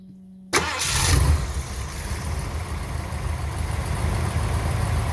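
A Ford Econoline E350 RV motorhome's V8 engine cranks and catches with a sudden roar, then settles into a steady, rumbling warm-up idle close by.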